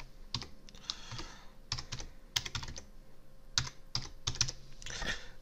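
Someone types on a computer keyboard, entering a virtual machine name, with quick irregular clusters of close, light key clicks across a few seconds and no talking.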